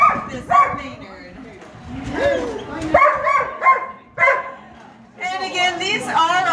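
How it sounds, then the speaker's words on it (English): Alaskan Huskies at a sled dog kennel in Skagway bark, yip and whimper close by in a busy mix, with people talking among the dogs. "these are all those Alaskan Huskies"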